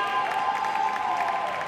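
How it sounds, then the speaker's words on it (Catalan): Steady applause from a graduation ceremony audience honouring translation and interpreting graduates; dense, continuous clapping at moderate volume, with a faint tonal layer underneath. "Un fort aplaudiment a tots aquests graduats i graduades en traducció i interpretació"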